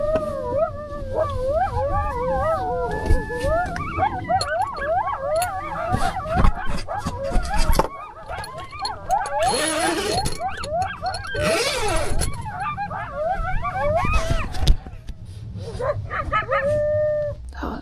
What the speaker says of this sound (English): A whole pack of coyotes had moved in close, their calls echoing through the darkness.